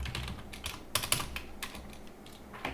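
Quick, close keystrokes on a computer keyboard as an answer is typed in, a steady run of light clicks with a few sharper taps, alone and fairly quiet.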